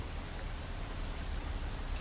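Steady, dense rainfall from the video game Hitman III, an unbroken even wash of falling drops at constant loudness with no voices.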